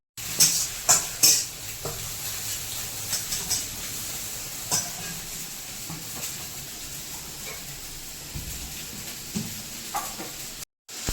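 An egg frying in a pan, cooked desi style with potatoes, gives a steady close sizzle and crackle, broken by sharp clinks of a utensil scraping and tapping the pan, loudest near the start.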